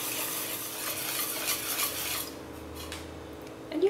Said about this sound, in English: and whisk it in again